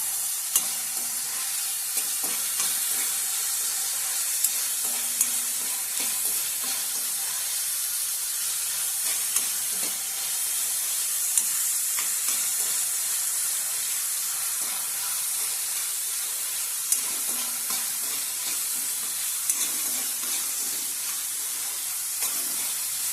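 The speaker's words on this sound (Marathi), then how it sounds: "जो आपले कांदो आहे ना तो पण असं फ्राय करून घ्यायचं" Onions frying in a pan for a Konkani cowpea-leaf bhaji, a continuous bright hissing sizzle with occasional soft stirring clicks, steady and close with no voices.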